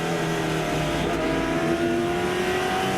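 Late model race cars roar around Langley Speedway in a close battle, a loud, steady engine drone with layered whining tones from several cars running nose to tail, continuous for the whole stretch with no talk.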